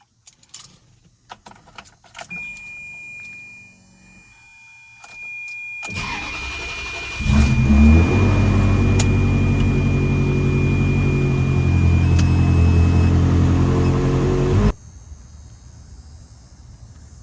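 Keys jangle and a Ferrari 360 Modena engine cranks and starts, then runs loudly and steadily for several seconds before cutting off, close by.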